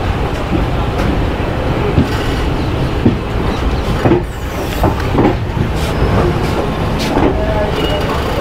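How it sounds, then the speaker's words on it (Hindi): Jan Shatabdi Express train pulling out of Amritsar railway station, a loud continuous rumble of rolling wheels with faint rhythmic clacks, heard from on board, steady throughout. "ट्रेन अमृतसर रेलवे स्टेशन से निकल पड़ी है।"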